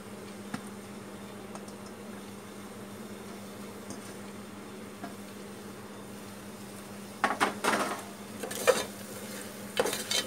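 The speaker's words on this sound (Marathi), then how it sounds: "आता मी टाकते गाजर आणि ढोबळी मिरची" Carrots and capsicum drop into fried onions in a pressure cooker, a quiet steady sizzle broken late by a few bursts of stirring and scraping against the pot.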